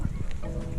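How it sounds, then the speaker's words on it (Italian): Honking from a crowd of swans resting on a river among boats and barges, a brief burst of overlapping nasal calls that sound close and fairly loud. "Accidenti quanti, tutti cigni."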